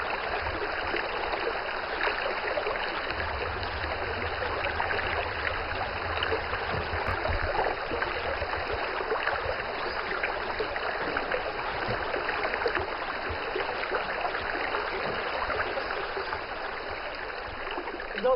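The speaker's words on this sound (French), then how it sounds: "il faut de nouveau traverser les cours d'eau" A stream rushes steadily during a crossing through the virgin forest of Taiyanghe, a continuous broadband wash of flowing water with no pauses.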